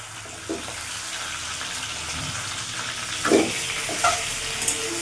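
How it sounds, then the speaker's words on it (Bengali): A large catla fish head frying in hot oil with whole cumin, chilli and spices gives a steady close sizzle, broken by a few louder spatters and stirring scrapes. "মশলা যেই ভাজা হয়ে গেছে মাছের মাথাটা দিয়ে দেবো"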